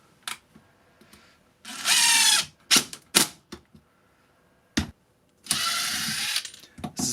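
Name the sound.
Makita 40v impact driver running on lowest speed setting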